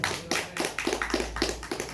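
Hands clapping in a quick, steady rhythm, about four claps a second, from a small group at an indoor technicians' community gathering in Bogor; fairly close, with no voices over it.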